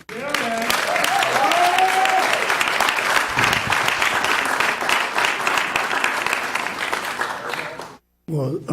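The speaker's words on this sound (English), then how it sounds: "So y'all give a round of applause" An audience applauds at an EBR Metropolitan Council meeting, honoring Coach Pete Richardson, with loud, dense, sustained clapping for about eight seconds and a few cheering voices mixed in, then a sudden cut to near silence.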